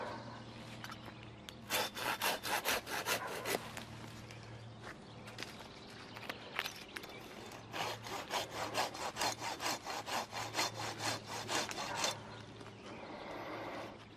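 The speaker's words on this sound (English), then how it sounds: "Another dead one I get with my handsaw." A handsaw cuts through a dead tree branch outdoors during pruning, making two bursts of rapid, rhythmic rasping strokes with a short pause between them, close by and fairly loud, with no talking.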